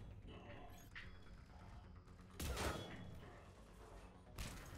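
Gunfire strikes an enemy shield in Mass Effect 3, two sharp bursts rising over a steady game soundscape while someone talks throughout.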